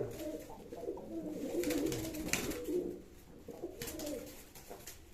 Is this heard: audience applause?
no